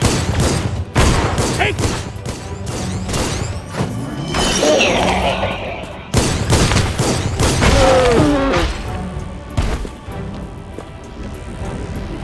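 Heavy gunfire in the PC game Gunnhildr, with dense bursts of shots and booming impacts that crackle almost without pause, loud and close, plus a few shattering crashes and speech-like voices mixed in.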